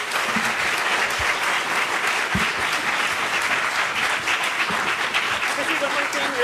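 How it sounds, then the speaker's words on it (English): Steady applause from the audience at a city council meeting right after a unanimous vote, dense clapping filling the room at an even level throughout, with a few voices mixed in beneath it. "Please hold your applause."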